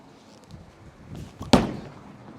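A Radical Bigfoot Hybrid bowling ball is thrown hard down a lane. A low rolling rumble builds, then a single sharp crash rings out.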